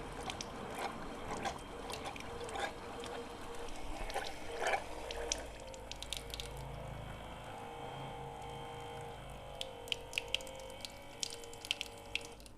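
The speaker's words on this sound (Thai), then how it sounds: "กดปุ่มสวิตช์ด้านบนนะครับผม ปั๊มน้ำทำงานนะครับ" An automatic drinking-water dispenser pump runs after its top switch is pressed, giving a steady low hum under continuous splashing, trickling water, close by and unbroken for several seconds, with no one talking.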